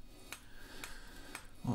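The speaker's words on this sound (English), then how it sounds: "it's a kilo hammer" Three evenly spaced metallic hammer blows from a one-kilogram hand hammer striking hot iron while forging a decorative snail, sharp ringing strikes at close range, followed by a brief low thump at the end.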